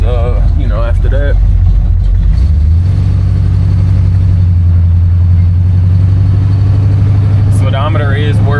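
A 1969 Chevrolet Impala pulls away and shifts into first gear, its deep engine hum rising and holding steady up close, with someone talking over the start and end.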